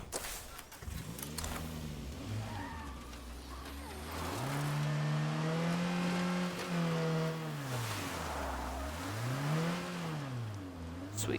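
A car in State of Decay 2, the Brogan, drives with a close, droning engine that revs up and down in long swells, ending in a hard acceleration.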